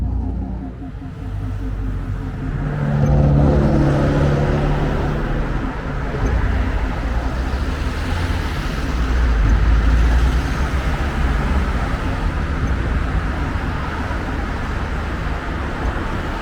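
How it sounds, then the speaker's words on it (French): A continuous flow of road traffic in Avignon rumbles steadily and loudly for the whole stretch, with passing cars swelling and fading close by and no clear voices. "On n'entend plus les voix, c'est un flot continu de voitures"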